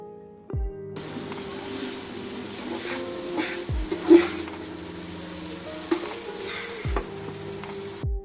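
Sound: stirring pasta with egg, spice and tomato sauce in pan

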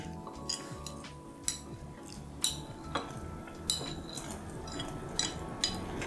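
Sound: adding tofu to boiling ramen in a pot

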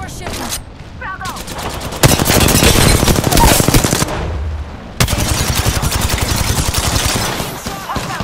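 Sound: gunfire in the video game Apex Legends

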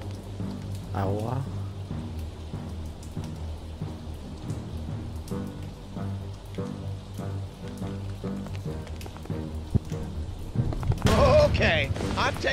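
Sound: water and rain sounds in the video game Lucius II

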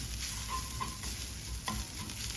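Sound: turmeric powder frying and being stirred in a pan

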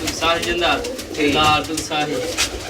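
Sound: pigeons cooing

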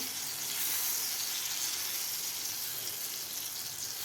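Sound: mango barfi mixture being sautéed in a pan on low heat

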